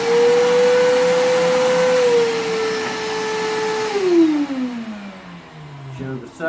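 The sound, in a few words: Stanley 6 gallon wet/dry vacuum running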